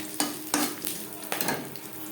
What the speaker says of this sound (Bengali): ফোড়নে দিয়ে দেব 2-3টে তেজপাতা আর দিয়ে দেব গোটা গরম মশলা